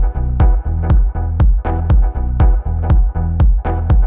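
Techno synth hits run through delay chains and reverb, loud punchy stabs repeating in a fast steady pattern with short echoing tails smearing between them, alone with no voices.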